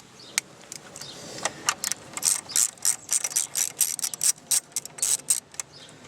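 A 7mm ratchet loosens a bolt on a 2010 Nissan Sentra during spark plug replacement, giving quick, close clicking bursts that grow busier and louder, with bits of faint metallic handling between strokes.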